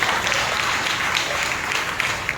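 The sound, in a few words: congregation clapping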